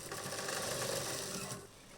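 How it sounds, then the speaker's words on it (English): A busy sewing machine in a mask-making workshop in Nairobi hums steadily and loudly without pause, its running sound filling the space before easing slightly near the end. "is a sewing machine that hardly ever stops. It hums day and night"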